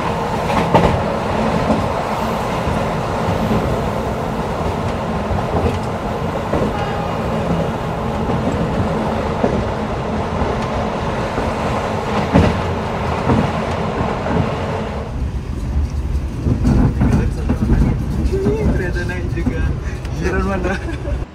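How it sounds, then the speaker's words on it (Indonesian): Gumarang economy-class train rolling into Cepu station, a steady close rumble of the rail car interior with wheel clatter that shifts to a rougher, heavier rolling sound as it slows. "Saat ini Gumarang tiba di stasiun Cepu."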